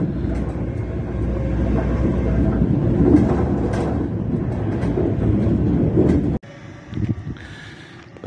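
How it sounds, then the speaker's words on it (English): A train rumbles past outdoors near a beach, a heavy, sustained low roar with rolling rattle that swells and then drops off abruptly, leaving a quieter, fainter tail of rail noise. "There goes the happy train."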